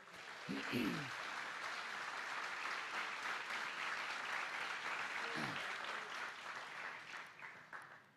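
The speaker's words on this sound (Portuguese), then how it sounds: "Você pode aplaudir ao Senhor?" A church congregation at a Christmas service bursts into sustained, loud applause that fills the room steadily, with a few brief voices rising near the start and again midway.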